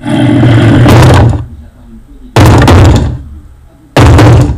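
Heavy blows smash against a wooden door in Minecraft as a zombie breaks it down, three loud separate bursts with short gaps between them.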